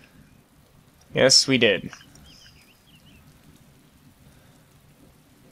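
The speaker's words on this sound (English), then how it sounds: "Oh, I'm getting wet. It's raining." Steady rain falls in DayZ, a soft continuous patter with a faint rumble, briefly interrupted by a short spoken reply.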